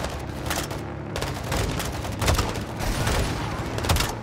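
Launcher fire and explosions in the video game Call of Duty: Modern Warfare II, a dense, continuous roar of booms and rattling gunfire with no break.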